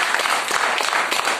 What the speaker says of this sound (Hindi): मिस्टर सोनू राय सर के लिए जोरदार तालियां चाहूंगा।